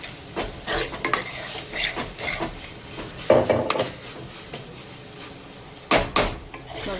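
Vegetables for street-style veg Hakka noodles are stirred and tossed in a pan, with irregular scraping and clattering strokes and a light sizzle underneath, heard up close with no talking.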